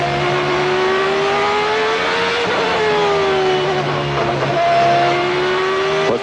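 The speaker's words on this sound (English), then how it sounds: "you can hear how he lets the engine drop" A Williams Renault Formula One car engine screams at high revs, the pitch dipping and climbing through gear changes and lifts, loud and close with sharp rising and falling harmonics.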